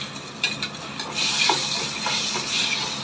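A spoon stirs tomatoes and curry leaves in a hot oiled pan for egg curry, a few scraping clinks over a continuous loud sizzle and hiss.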